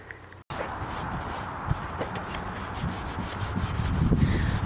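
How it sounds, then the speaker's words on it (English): Primer on an R32 drift car body panel being sanded by hand in steady back-and-forth strokes, a close, continuous gritty rubbing that grows slightly louder toward the end, with no talking. "we'll get it out of the booth and start sanding it"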